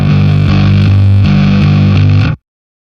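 A bass guitar through a heavy EHX fuzz pedal, loud and sputtering with a gritty, broken-up tone, cutting off abruptly after a couple of seconds.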